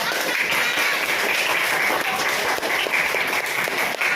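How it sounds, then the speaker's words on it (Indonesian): Schoolchildren clapping their hands in a classroom at an Indonesian elementary school, a loud, continuous burst of many small hands close by with no talk over it. "Iya, tepuk tangan nak."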